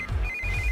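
An electronic phone ringtone trills steadily in a short high-pitched burst, close and clear, with no voices.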